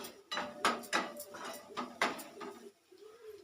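Onions being stirred in a frying pan, a spoon or spatula clinking and scraping against the metal in an irregular series of close, moderate knocks, with a soft background hiss fading near the end.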